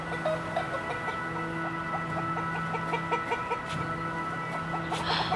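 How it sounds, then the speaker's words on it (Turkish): Chickens cluck in a steady scatter of short, close calls over a constant low hum, with no talking. "Tavuklara bak."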